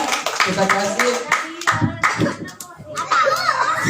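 Children clapping their hands together in rhythmic bursts during a storytelling session, mixed with children's voices and an adult speaking over them.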